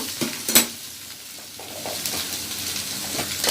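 Egg noodles frying in a pan, stirred and tossed with a utensil: a close sizzle under repeated scraping strokes and a few sharp metallic clinks early on, no talking.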